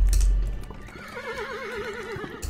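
A horse in the video game The Supper gives a loud, wavering whinny that rises and trembles for about a second, close up, over a low ambient hum with no talk.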